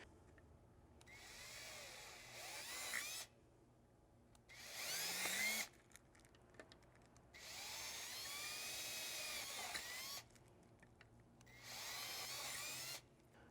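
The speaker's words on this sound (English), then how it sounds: "you need to drill the holes out a little bit bigger to fit over the 1/4 inch studs" A power drill whines in four separate bursts, its pitch rising and falling as it enlarges holes in a metal Jeep front bumper, with quiet pauses between runs.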